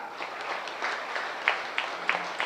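Applause from a crowd at a party success meet, fairly soft and brief, with a few sharper claps standing out near the end.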